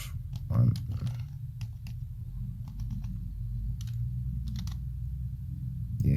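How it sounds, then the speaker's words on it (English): Typing on a computer keyboard, a run of quick, faint key clicks in short irregular bursts over a low steady room hum, close by. "I just typed in random values"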